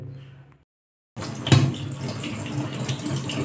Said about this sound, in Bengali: এরকম নাড়িয়ে নাড়িয়ে বেশ সুন্দর করে ধুয়ে নেবেন।